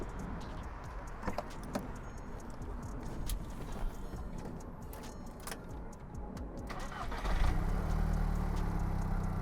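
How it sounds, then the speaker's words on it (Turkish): A Volkswagen Golf 5 GTI Stage 1 engine runs steadily at idle with a broad, even rumble and airy intake filter hiss, and the sound grows slightly louder and fuller near the end. "arabayı çalıştırıp bir motorun sesini dinleyebiliriz"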